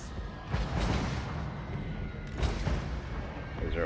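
Mortar artillery fire in Total War: Warhammer 2, a battle game: deep booming blasts sound repeatedly over a constant rumble of battle noise, fairly close and heavy.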